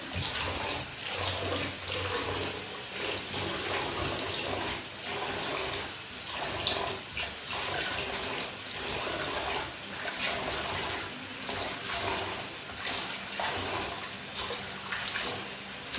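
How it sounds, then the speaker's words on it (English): Water runs steadily from a tap over rice being washed, a soft splashing wash, continuous and moderately close, with no voices. "You want to ensure that you wash your rice"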